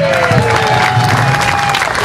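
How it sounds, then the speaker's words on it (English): Crowd at a Bluegrass Tax Liberation Day event applauding, a brief loud wash of clapping with some cheering and voices underneath. "Let's give them a big round of applause"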